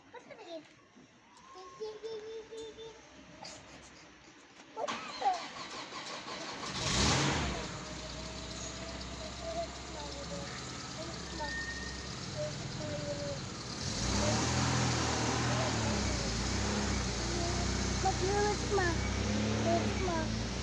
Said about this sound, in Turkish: Bak araba geliyor babaannem.